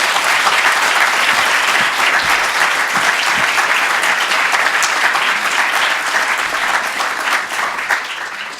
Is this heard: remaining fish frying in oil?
no